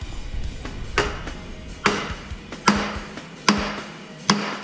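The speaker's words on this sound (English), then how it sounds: "You need that heavy hammer. You need your mini sledge." Five heavy hammer blows from a mini sledge on metal, evenly spaced about a second apart, each a sharp clang with a brief ringing tail.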